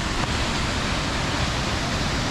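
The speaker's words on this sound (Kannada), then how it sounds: "ಇಲ್ಲಿ ನೋಡಿ ಹೇಗಿದೆ ಫಾಲ್ಸ್" A waterfall roars as a dense, constant rush of broadband noise, loud and close, with no other sounds standing out.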